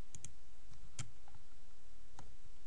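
Computer mouse clicks while editing a web page's CSS, several sharp isolated clicks, two in quick succession at the start, then single clicks spaced apart over a quiet room.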